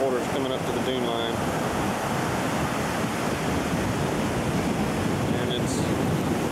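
Ocean surf rolls onto a beach before Hurricane Hugo in 1989, an hour before high tide with water reaching the dune line; a steady, loud roar of waves and gusting wind buffets the microphone throughout.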